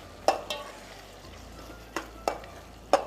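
Ground masala for biryani mixed in a pot: a few sharp, separate scrapes and taps of a spoon against the pot, close but quiet, with soft background hum between them.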